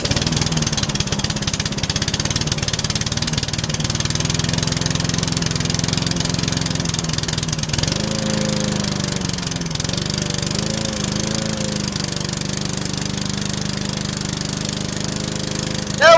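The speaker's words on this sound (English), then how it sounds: "We got this mower running perfect!" A small rebuilt lawn mower engine, pieced together from old parts, runs steadily for the whole stretch with a continuous mid-pitched drone and a brief shift in tone as its RPM settles.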